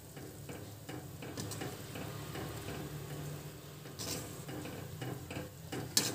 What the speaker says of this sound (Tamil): சேர்த்து நல்லா கிளறி விட்டுக்கோங்க